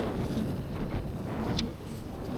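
Strong storm wind buffets the microphone in a steady, loud roar during shore fishing for mullet, with no voices and only a brief gust peak near the middle.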